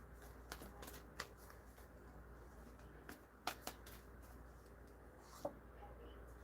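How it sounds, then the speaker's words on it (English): Quiet, steady tarot card shuffling with soft riffling and scattered sharp taps as cards are squared, close up, with no voices. "I shuffle on the last card."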